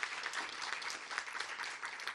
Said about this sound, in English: So a big round of applause to this incredible institution.